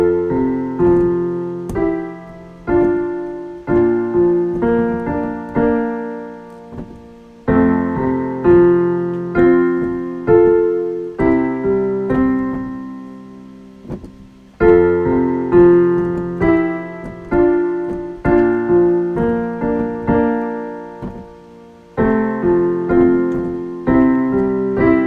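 Steady piano accompaniment with a repeating low bass figure, root, fifth and back, under chords, played in even phrases that restart every few seconds.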